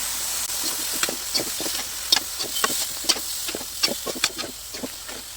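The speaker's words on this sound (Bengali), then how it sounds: "এখন নাড়াচাড়া করে চিরচিঙ্গার পানিটাকে শুকিয়ে একদম ভাজা ভাজা করে নিচ্ছি" Cut snake gourd frying in a pan while being stirred to cook off its water: a steady close sizzle and hiss with a regular run of sharp scraping clicks from the stirring, and no voices.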